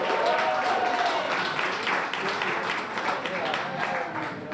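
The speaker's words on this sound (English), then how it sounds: "Give yourselves a big round of applause for coming out." Audience applause at the grand opening of the Underground Cafe and Lounge, a steady wash of clapping from a crowd that holds fairly even for a few seconds, with voices mixed in.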